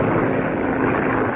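A propeller plane flying overhead produces a loud, steady, rumbling drone that fills the whole moment without pause. No voices are heard over it.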